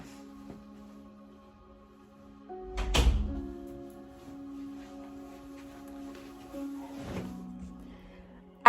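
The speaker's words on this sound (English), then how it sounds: "I cracked the door." A door is cracked open indoors with a couple of dull thunks and brief creaks, separated by quiet stretches against a faint steady hum.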